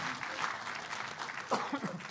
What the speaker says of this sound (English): Fulvio Mavilio, on peut l'applaudir